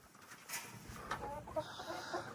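Backyard chickens cluck and murmur softly while being fed grain, a faint cluster of low bird calls under a hissy outdoor background.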